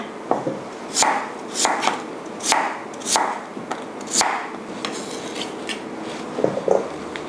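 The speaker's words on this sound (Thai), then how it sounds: "หั่นให้เป็นชิ้นพอคำนะคะ" A knife chops through firm tofu on a board, about a dozen crisp, evenly spaced cuts with a steady rhythm, close and fairly loud.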